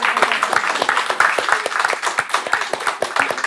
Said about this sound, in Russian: Коляну похлопаем.